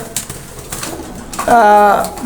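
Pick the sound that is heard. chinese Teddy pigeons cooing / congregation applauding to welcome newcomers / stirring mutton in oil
chinese Teddy pigeons cooing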